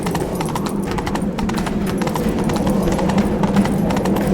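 Geralt's horse Roach gallops in The Witcher 3, its hoofbeats a steady rapid clatter that runs continuously and loud under a low rumbling bed.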